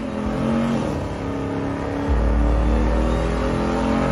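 A massive truck engine of about 700 horsepower revs hard nearby, a loud sustained growl that swells into a deeper, heavier roar halfway through and holds steady.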